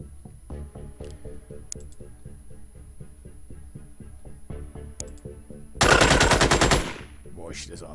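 Rapid machine gun fire in the turn-based strategy game Xenonauts, a dense sustained burst near the end after a stretch of rhythmic ticking and game music.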